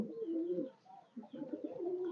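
Soft, low cooing from female golden highflyer pigeons in a few rolling phrases, close by and fairly quiet, with a brief pause between calls.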